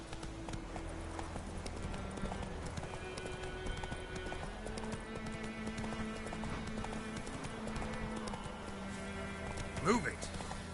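Hooves of a horse trot in a steady clip-clop rhythm inside a PS4 video game, moderately loud against layered game music and ambient tones, with a sharp brief accent near the end.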